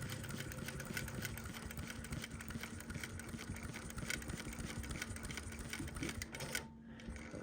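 A longarm quilting machine stitches down pieced quilt fabric, giving a steady, close mechanical hum with rapid needle chatter that runs continuously and drops off abruptly near the end.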